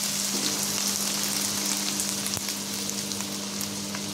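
Garlic and ginger sizzle in hot oil in a pan for chicken feet adobo, a steady close crackle with a few sharper pops and no voices.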